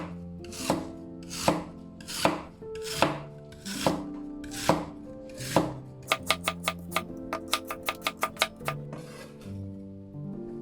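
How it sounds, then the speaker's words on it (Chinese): A kitchen knife slices a peeled, washed lotus root into 5 mm slices on a cutting board: several slow, crisp chops with ringing board knocks, then a faster run of sharp cuts, close and clear without speech. "我们将一节削皮洗净的莲藕切成5毫米厚的薄片"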